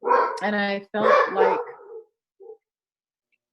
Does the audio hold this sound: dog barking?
yes